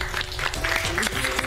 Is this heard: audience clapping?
yes